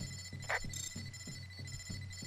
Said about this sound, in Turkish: Bu niye bipliyor?